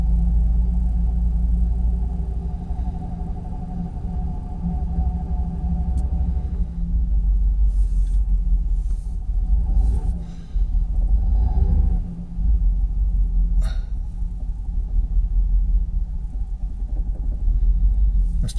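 A Jaguar XKR engine with a faulty idle runs with the throttle held partly open, a steady low rumble that wavers slightly and dips briefly, heard close up.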